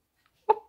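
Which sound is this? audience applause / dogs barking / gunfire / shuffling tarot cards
dogs barking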